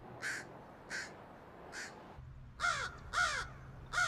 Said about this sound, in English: Scientists have identified over 250 distinct crow calls.